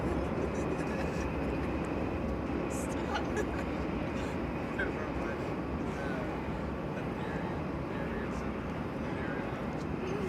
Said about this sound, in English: So Cargo Lux just touching down from Anchorage.